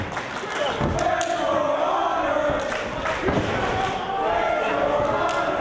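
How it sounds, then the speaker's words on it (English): A split wrestling crowd roars at a Paul London vs Bryan Danielson two-out-of-three falls match, with steady, dense chanting and cheering swelling in waves, loud and unbroken throughout. "They're chanting, "Where's your honor?" at Danielson."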